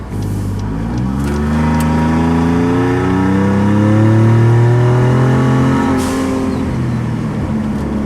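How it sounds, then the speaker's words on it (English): A 2020 Ford Raptor with a modified aftermarket exhaust and blow-off valve revving up, its loud, deep engine note climbing and holding steady before easing off, close and continuous with no talk. "it just sounds like a good exhaust."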